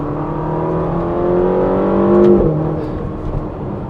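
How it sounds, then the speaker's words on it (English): A Ferrari California T engine revs up with rising harmonic whine, then a sharp pop as the pitch drops at the upshift, heard close inside the car. "maybe you can hear that pop on the upshift."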